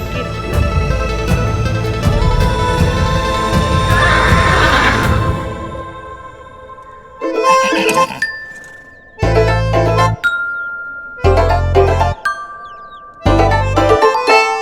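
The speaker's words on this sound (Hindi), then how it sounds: "घोड़े मांगे थे और घोड़े आ गए," Horses arriving let out a loud, close whinny that rises and trails off, followed by several short bursts of bright jingling and clinking separated by brief pauses.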